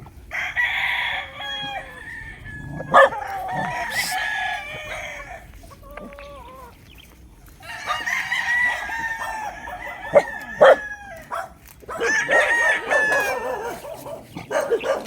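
Several fighting-cock roosters crow in turn, loud and near, with hens clucking and a dog barking briefly in between, in Tanauan, Batangas.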